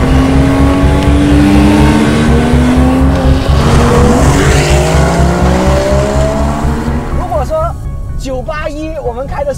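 A Porsche Cayman GTS engine drones loud and steady from inside the car while driving, with rising and falling harmonic tones as it revs and shifts, and a brief burst of chirping tire noise near the end.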